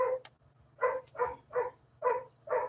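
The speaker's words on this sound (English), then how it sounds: "I have a hound puppy, I'm sure y'all can hear, that's right in outside this door that she has found something to bark about." A hound puppy barks just outside a door indoors, giving about six loud, evenly spaced barks with brief pauses between them over a low steady hum.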